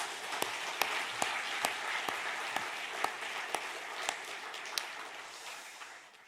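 A church congregation applauds during a Sunday worship service, with steady, moderately loud clapping and scattered sharper claps, holding evenly before tapering off near the end.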